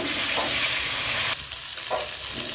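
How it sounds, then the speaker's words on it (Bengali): Potatoes frying in a pan give a dense, loud sizzle that suddenly drops to a quieter crackle halfway, followed by a couple of stirring scrapes and a sharp clink at the end. "আগে আলুটা একটুখানি কষা কষার মতো হয়ে যাক"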